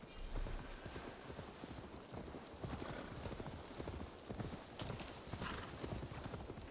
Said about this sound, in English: The horse is slow as shit